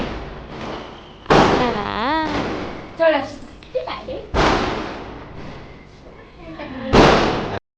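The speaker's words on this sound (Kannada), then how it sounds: "ಪಟಾಕಿ ಪಟಾಕಿ" Several loud firecracker bangs burst nearby at irregular intervals during a New Year celebration, with voices talking and exclaiming between the blasts.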